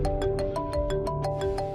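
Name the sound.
phone ringtone for an incoming call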